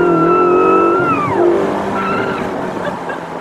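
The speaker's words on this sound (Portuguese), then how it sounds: "A arrancada dele é impressionante, é uma explosão de motor mesmo." A car engine revs high and then drops off as it speeds away, leaving a fading rumble behind.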